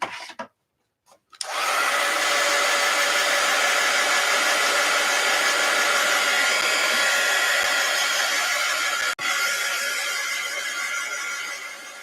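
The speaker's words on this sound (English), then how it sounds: "let's hit this with the heat gun." Heat gun blowing steadily on a stamped craft card, a loud, continuous airy roar that starts after a brief quiet moment and holds with a short dip near the end.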